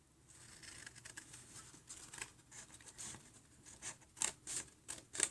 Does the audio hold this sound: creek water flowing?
no